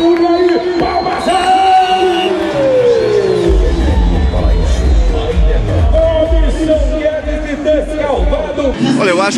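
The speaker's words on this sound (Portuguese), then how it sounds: "faz barulho aí. Palmas!" Crowd at the Expolagoa rodeo in Lagoa da Prata, a dense, loud babble of voices and cheering with a tonal call and deep rumble underneath, sustained throughout without breaks.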